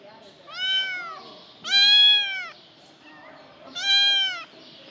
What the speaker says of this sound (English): she's meowing right now because she's scared.